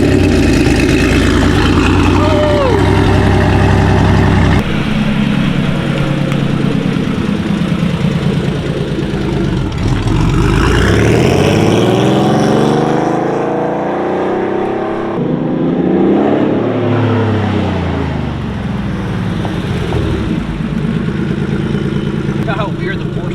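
A Porsche 964 engine runs and revs while driving, with rising and falling engine sweeps over steady road noise, loud and close throughout, with voices in the car speaking over it.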